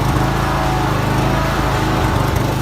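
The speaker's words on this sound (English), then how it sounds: "Watching him fumble with that lawnmower is like a scene from an action movie." A lawn mower engine runs loud and close at a steady, buzzing pitch for a few seconds, with no voices over it.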